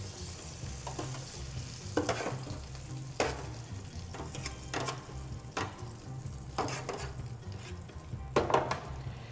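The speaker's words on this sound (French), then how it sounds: "Je vais donc déposer mes légumes dans notre fond qui est en train de se faire" Vegetables going into a homemade veal stock simmering in a pot, with a constant low bubbling sizzle and several sharp clinks and scrapes of utensils against the pot, close and alone.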